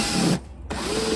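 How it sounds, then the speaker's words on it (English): A power drill cutting a hole in a BMW E36 M3, a close, loud whirring grind that stops abruptly for a moment, then resumes with a rising whine. "I'm gonna show you guys me drilling this thing."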